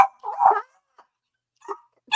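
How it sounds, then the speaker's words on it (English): Indoors, a pet dog barks in short bursts: a louder opening yelp, a longer bark, then a couple of brief, fainter yips separated by quiet gaps, fairly close to the microphone. "my dog is going crazy"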